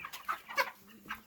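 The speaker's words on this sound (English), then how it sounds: "this is about 30 baby chickens" Several short, high-pitched peeping chirps from a group of about 30 broiler chicks, a few quick calls in a row, fairly close.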